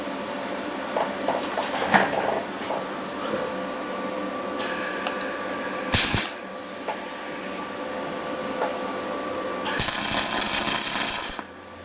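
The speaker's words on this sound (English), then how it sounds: "oh man, I'll be grinding for an hour" Angle grinder working over welds on a metal R/C storage cabinet build, a bright harsh whine that comes in bursts, sustained passes around the middle and a louder, longer run near the end, with clanks and workshop noise between.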